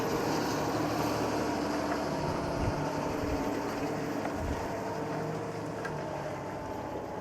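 A Fendt MT 1167 Vario crawler tractor rated at 670 horsepower works a field with a 6 m alternator, its deep, steady engine roar and broadband rumble filling the clip continuously at close range.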